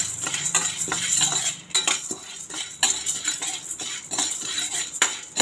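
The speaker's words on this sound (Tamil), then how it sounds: "பொட்டுக்கடலை நல்லா ரோஸ்ட்டாக தான் இருக்குது அப்படின்னா கூட இது கூட சேர்த்து ஒரு தடவை பரட்டி எடுத்துக்கலாங்க" Roasted gram (pottukadalai) is stirred and dry-roasted in a pan with a metal spoon, repeated scraping and clinking strokes against the pan over a rustling, rattling bed of lentils, close and steady with no speech.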